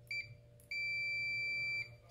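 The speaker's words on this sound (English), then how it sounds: "So once I touch these together, you'll hear a beep." A continuity tester used while repairing the cord of an older Windsor Versamatic vacuum gives a short steady beep, then a longer sustained one of about a second as the probes touch, over a low background hum.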